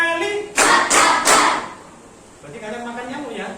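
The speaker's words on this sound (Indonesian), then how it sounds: "Tepuk nyamuk 3 kali." A class of children claps the 'tepuk nyamuk' mosquito clap three times, three sharp, loud, evenly spaced claps close by, with a teacher's voice talking before and after.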